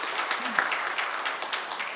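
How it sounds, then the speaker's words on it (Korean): A church congregation applauds to welcome new members during a Sunday service, with steady moderate clapping filling the hall throughout. "박수로 환영하겠습니다"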